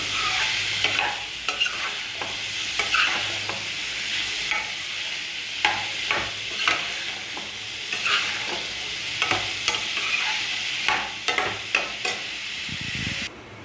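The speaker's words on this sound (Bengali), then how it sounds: "এই যে মাছ ভাজার জন্য আমি এই সরষের তেলটা দিয়ে দিচ্ছি" Hilsa fish frying in a little mustard oil in a wok, a steady close sizzle broken by repeated sharp clatters and scrapes of stirring, with no talk.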